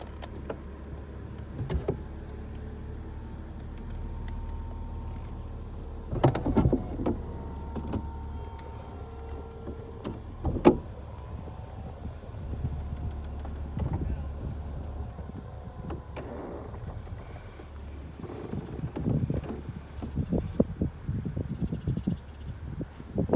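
The convertible roof motor of a 2011 BMW Z4 whirs softly on and off amid clicks and mechanical clunks, faint and close, with brief thumps as panels move and latch.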